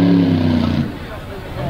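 A monster truck engine at a Monsters vs Megas show drones loudly with a steady tone at first, then drops away into crowd hubbub and rumbling motor noise.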